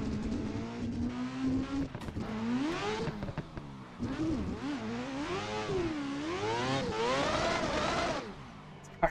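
A 4-rotor rotary engine swapped into an A90 Toyota Supra screams on a touge and competition track, revving hard up and down through gears in loud, wavering sweeps of pitch, with wind noise around it.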